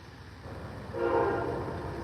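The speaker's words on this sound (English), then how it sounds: "Train's coming." A train passes with its horn sounding, a steady rumble of rail cars rising as a sustained horn blast swells in at moderate distance and holds.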